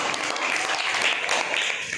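A small group applauds both players after a round of a funny party game, a dense, steady patter of clapping hands held at an even level for two seconds, fairly close with no talk over it.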